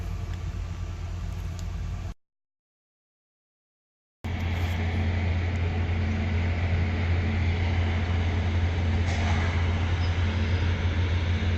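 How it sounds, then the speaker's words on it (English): A steady, low rumbling drone of a train rolling along the tracks, broken by a brief silent gap early on. "we got a train on the tracks over here"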